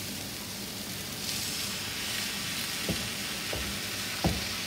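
Tomato purée poured into a pot of Mexican beef stew sizzles with a steady, hissing fry, broken by a few soft clinks near the end.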